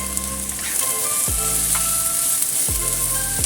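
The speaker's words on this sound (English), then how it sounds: "Then add in the lamb slices." Lamb slices and purple onions stir-frying in a pan produce a steady close sizzle with a faint tonal hum and occasional scrapes underneath.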